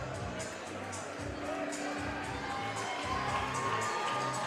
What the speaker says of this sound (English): So he gets a loud response from the crowd here.